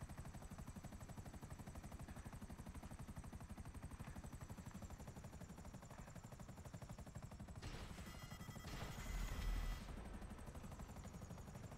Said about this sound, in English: It's kind of hard to drive a chopper